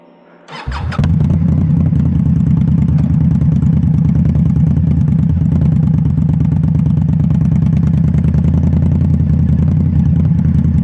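A motorcycle engine starts and then idles steadily with a loud, close, throbbing rumble during a day of rider training.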